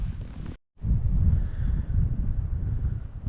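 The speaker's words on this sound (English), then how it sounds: "Still a bit of wind, but it's not quite as bad as it was out on that other pond where we were at this morning." Steady outdoor wind buffets the microphone on a frozen pond during late-season ice fishing for brook trout, a continuous low rumble that is loud and close with a brief dropout near the start, and no talking.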